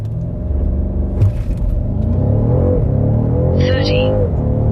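A BMW M550i fitted with a Dinan throttle response booster pulls hard under acceleration, its loud rumbling engine note rising steadily through the gears, heard from inside the cabin with a voice talking over it.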